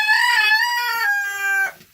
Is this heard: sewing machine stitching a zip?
no